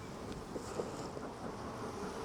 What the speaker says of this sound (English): You can see all the bees up here.